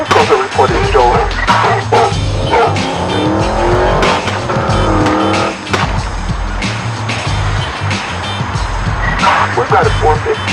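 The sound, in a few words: sports car fleeing with tires squealing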